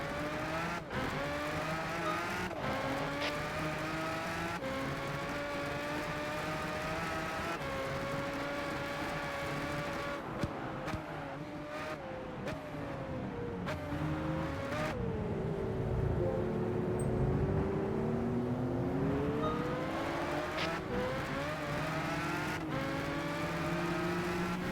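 Race car engines in Gran Turismo 5 rev and shift continuously, with rising and falling whine as gears change, several cars roaring close together, and occasional sharp knocks from contact.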